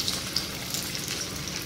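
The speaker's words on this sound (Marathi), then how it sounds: "चला आस्ते आस्ते आपल्या आलू वड्या टाकूया" Potato vadas frying in hot oil for crispy aloo vadi, with a steady, even sizzle and faint bubbling crackle running throughout, close and continuous with no voices.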